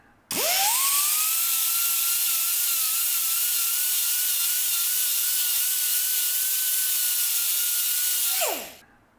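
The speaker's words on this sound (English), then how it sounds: "so I'll do that by sanding." A steady, whining power-sanding drone holds one pitch for about eight seconds as wood is sanded off a face, starting abruptly and winding down at the end, close and loud with no voices.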